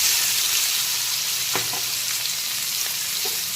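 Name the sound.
chopped onion frying in hot oil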